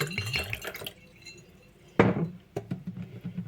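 A little water drained from a container during setup of a closed jar ecosystem, heard as a short clinking splash followed by faint dribbling and small knocks, fairly quiet and close.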